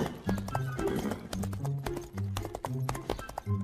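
Horses galloping away with rhythmic clip-clopping hooves, a quick repeated beat of hoof strikes that stays fairly close and distinct, with little else around it.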